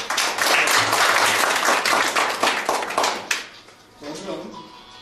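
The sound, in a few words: audience applause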